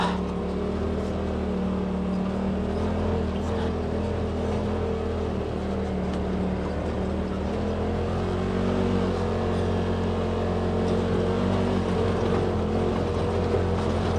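A 2018 Polaris RZR XP Turbo side-by-side driving along, its engine droning steadily and loudly for the whole stretch with slight pitch shifts, no talk over it.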